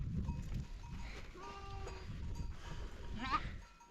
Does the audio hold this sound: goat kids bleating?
yes